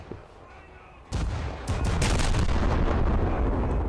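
Battleship naval guns fire in War Thunder: after a quiet opening a sudden heavy boom erupts, followed by a dense, sustained roar of further blasts rumbling on to the end.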